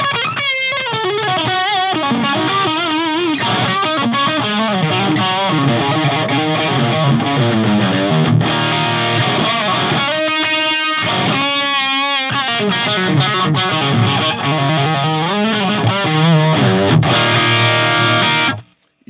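Heavily distorted electric guitar at a high gain setting through a Tone INK Gambit booster, playing a continuous loud riff of sustained chords and notes that cuts off abruptly at the end.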